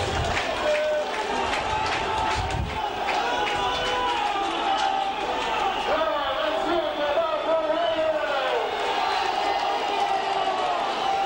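A rugby league crowd at Barrow versus Widnes reacts to a conversion attempt, a steady roar of cheers and shouts swelling and settling across the stands, with a commentator's voice under it.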